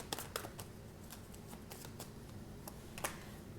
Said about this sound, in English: Give me two more tarot cards.